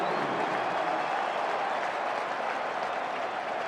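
Home crowd at an NFL game between the Giants and Redskins, cheering in a loud, steady roar that fills the stadium without a break.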